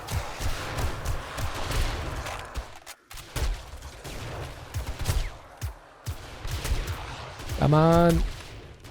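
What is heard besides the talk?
rifle gunfire in the 7 Days to Die video game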